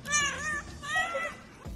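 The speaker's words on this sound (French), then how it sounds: "Un chat normal, ok." A domestic cat meows twice in quick succession, close and fairly loud, with drawn-out, wavering cries and a brief low thump at the end.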